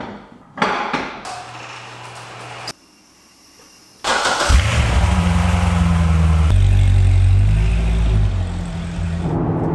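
A car engine starts with a loud crank and catch, then settles into a steady close rumble after a brief pause, preceded by clunks and knocks, after a big brake kit install.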